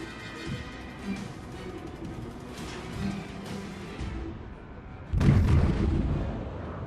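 A heavy naval gun salvo booms out in World of Warships, a single loud blast arriving suddenly over a low, steady game rumble, with a sustained roar fading after it.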